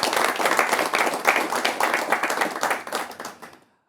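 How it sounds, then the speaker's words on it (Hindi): An audience claps at a televised ceremony honouring successful UPSC civil services exam candidates. Steady, dense applause continues for about three and a half seconds, then quickly dies away to silence. "उनके लिए भी तालियां।"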